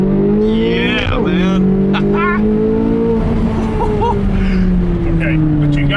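Race-style car engine accelerating down a short straightaway, the revs climbing in sweeping rises as the driver shifts, loud and close inside the cabin with people talking over it.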